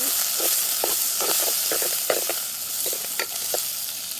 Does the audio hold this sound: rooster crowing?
no